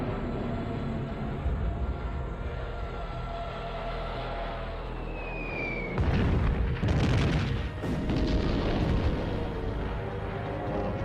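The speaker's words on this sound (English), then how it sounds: "Hitler orders the bombing of Warsaw." Bombing of Warsaw in World War II: a continuous low rumble of distant bombardment builds into heavy, booming explosions and artillery fire, dense and loud through the second half, with no voices.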